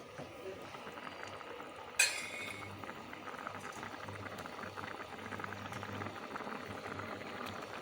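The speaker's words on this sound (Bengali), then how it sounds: "ঝোলটা টকবগে ফুটে গেছে" Fish curry gravy boils in a pan, a quiet steady bubbling with one sharp clink of a utensil near the start, and no talk.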